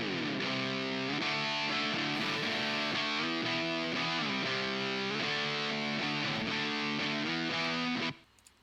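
Distorted electric guitar through a JCM 900 clone amp plays a hard rock riff with sustained, harmonically rich chords for about eight seconds, loud and alone, then cuts off abruptly.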